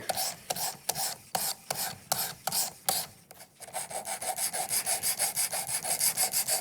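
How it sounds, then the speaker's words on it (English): A knife is stroked across a sharpening stone on a Worksharp Precision Adjust, at first in separate rasping passes, then in a fast, even back-and-forth scrape, close and loud with no speech. "I'm kind of going back and forth between going in one direction and going up and down"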